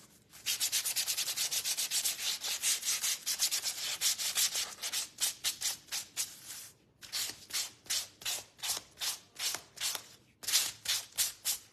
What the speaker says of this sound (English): All right, sand our watermelons. sand our outside.